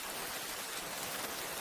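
Steady rain falling at night, a dense even hiss of drops on surfaces, soft and constant without pause or voices.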